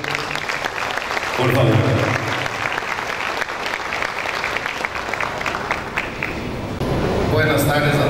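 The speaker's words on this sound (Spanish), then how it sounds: "Vamos a recibirlo con un fuerte aplauso," Audience applause greets the cooperative president at the official opening of the 2024 Copronar Agroshow, a dense steady round of clapping running throughout, with an announcer's voice speaking over it at the start and end.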